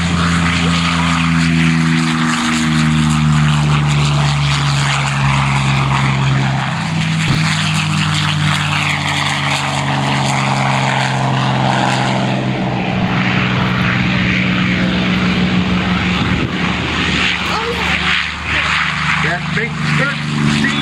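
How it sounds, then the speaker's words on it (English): A Vought Corsair warbird with a 13-foot propeller drones loudly and continuously at an air show, its engine roar shifting slightly in pitch while an announcer talks over it. "Big 13-foot diameter prop of the Corsair gets the dust up pretty good"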